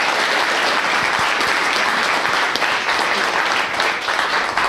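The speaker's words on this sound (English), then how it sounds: "Round of applause for her." Sustained audience applause fills a room at a public event, dense and steady clapping from a large crowd throughout, with no distinct voices over it.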